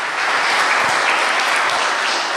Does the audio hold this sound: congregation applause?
yes